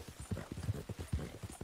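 Horse hooves galloping in Red Dead Online, a dense, steady drumming of heavy thuds in quick galloping rhythm, close and continuous throughout with no voices over it.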